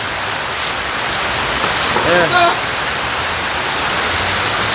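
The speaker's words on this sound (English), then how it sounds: "the boat land, the rain come down, people" Steady rain falls on surfaces outdoors as a hurricane approaches in Jamaica, a dense continuous hiss throughout, with a brief voice and whoop rising over it midway.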